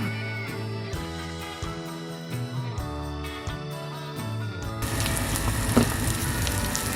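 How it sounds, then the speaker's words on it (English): Hash browns hit a pan of neutral oil with a steady, bright sizzle that starts partway through and carries on loudly to the end, with background music playing before and under it. "just a little bit of neutral oil, just brown it in a pan"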